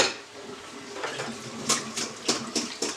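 Metal colander handled in a kitchen while draining potatoes, a run of close clattering knocks and clinks, the last few sharp and evenly spaced, over a soft watery wash.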